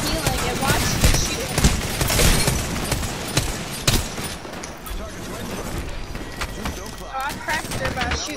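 Rapid bursts of video game gunfire crackle through a busy, dense mix, with players talking over the shots throughout.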